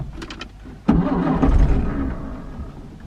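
A classic Ford Anglia, the E494A, cranks over and catches, its small engine settling into a steady, loud running note right after a few faint clicks.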